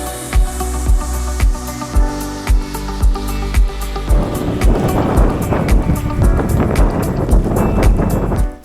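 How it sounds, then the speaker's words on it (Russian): Strong wind and waves on a lake, heard from a kayak: regular heavy thumps of water slapping the hull at first, giving way to a louder, rougher rush of wind and choppy surf close to the microphone. "Волны пипец, ветер."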